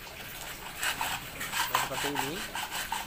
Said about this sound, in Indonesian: Kita amplas, kita gesek dulu.